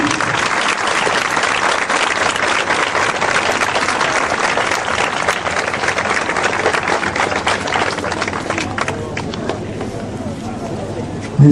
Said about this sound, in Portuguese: Vamos aplaudir o grupo.